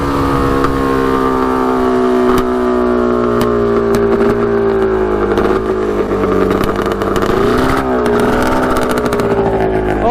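A 110 HP custom Yamaha Banshee quad engine runs loud and steady with its silencer off, holding a throaty harmonic drone throughout with a brief pitch dip and rise near the end.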